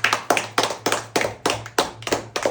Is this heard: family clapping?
yes